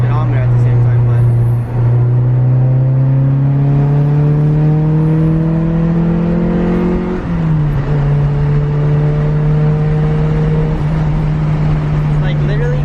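A car fitted with Yonaka Spec II coilovers takes a corner, its engine droning steadily and rising in pitch, dipping briefly at a gear change, with someone talking throughout.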